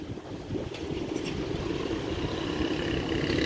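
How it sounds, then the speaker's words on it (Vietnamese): A ferry crossing to Hòa Minh islet in Trà Vinh, Vietnam, with its engine giving a steady, moderately loud rumble mixed with broad ambient noise as passengers board. No one speaks. "Lên phà"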